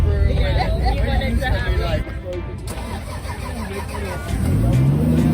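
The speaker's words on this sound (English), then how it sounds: "Now what you just heard was the 2JZ under the Lexus IS300" A Lexus IS300 fitted with a 2JZ engine, the same engine as the Toyota Supra, rumbles loudly at a car meet amid crowd chatter, its low tone rising as it revs near the end.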